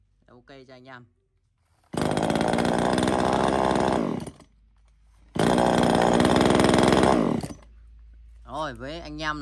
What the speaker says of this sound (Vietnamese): cần một chiếc máy cưa xích mini nhỏ gọn